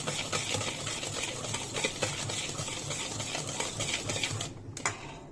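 Beaten eggs and cream whisked together in a bowl for an orange cake, a steady close rhythmic rattling and scraping that runs continuously before stopping abruptly near the end.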